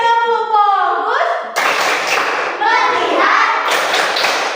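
A classroom of children does a rhythmic group focus clap during a Hindu religious education lesson, with sustained bursts of hand clapping alternating with loud chanted voices, close and lively.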